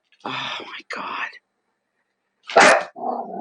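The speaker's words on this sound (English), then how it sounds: "Sorry about the barking, guys." A dog barks loudly and close by in several short bursts, with a brief pause between the first pair and the last.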